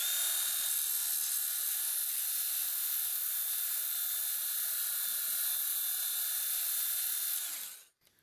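A Milwaukee M12 FUEL 1/2 x 18 inch bandfile sands surface rust and burrs off metal with a steady, high, hissing whir that runs unbroken for about eight seconds before stopping abruptly.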